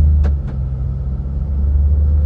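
A 2007 Ford Mustang automatic idling with a deep steady rumble as it starts to pull away gently, two brief clicks early on, engine close and constant throughout.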